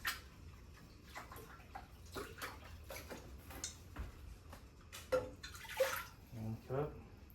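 Chicken broth is poured into a pot for Spanish rice, sloshing and splashing in uneven bursts with clinks of kitchenware, louder near the end, while a person talks.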